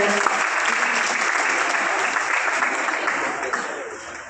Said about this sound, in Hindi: इनके लिए जोरदार तालियों से हम स्वागत करें